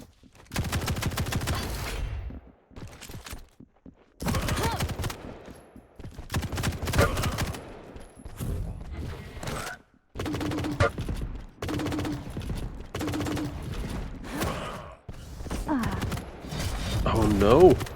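Heavy machine gun fire in a Quake Champions duel tournament match, with rapid bursts of shots in several separate volleys broken by short gaps, mixed with game effects and some talk.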